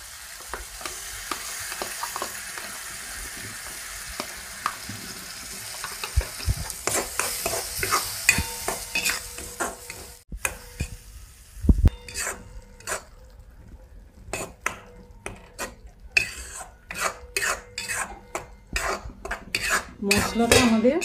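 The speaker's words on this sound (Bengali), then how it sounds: "মশলাটা আমাদের ঢাকা দিয়ে দিয়ে ভালো করে ভাজতে হবে।" A ground spice paste fries and sizzles in a pan for egg mustard curry, with frequent scraping and clinking of a spatula stirring against the metal, steady sizzle beneath and sharper bursts of stirring later on.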